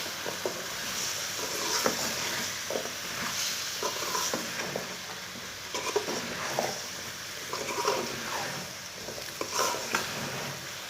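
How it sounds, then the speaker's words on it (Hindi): Half a kilo of potatoes frying and being stirred in a pan over medium heat for aloo gobi, giving a steady sizzle with scraping stir strokes throughout, no voices. "आलू डाल के भी 3 मिनट तक भून लेंगे।"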